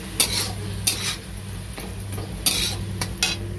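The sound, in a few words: sautéing tomato and sour yogurt in a pan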